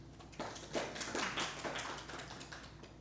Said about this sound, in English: Claps to him, please.